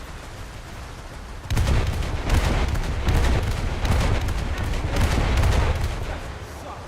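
Naval guns firing in a coastal boat combat game, a sustained roll of rapid heavy gunfire and booms that starts abruptly over a low background rumble.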